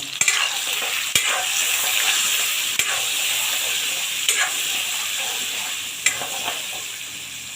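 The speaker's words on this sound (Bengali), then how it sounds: "লবণ আর হলুদ দিয়ে প্রথমে আলুগুলো সুন্দর করে ভেজে নেব" Potatoes fry with salt and turmeric in hot oil, a continuous bright sizzle broken by occasional sharp taps and clicks of a spatula against the pan.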